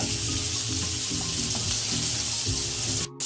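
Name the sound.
pointed gourd frying in oil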